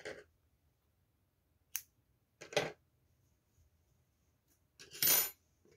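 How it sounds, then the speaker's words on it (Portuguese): Crochet yarn being cut with scissors, a few sharp, isolated snips and clicks spaced out against near silence, the last one a bit longer and louder. "Eu vou puxar e vou cortar esse meu fio."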